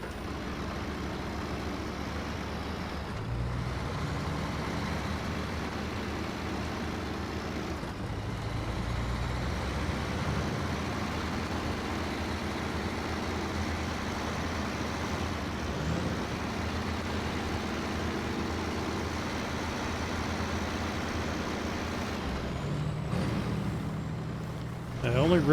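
A heavy truck engine in the SnowRunner video game drones loudly while pulling a trailer on a hardcore material-order run, a steady, unbroken rumble lasting the whole stretch with only slight dips in level.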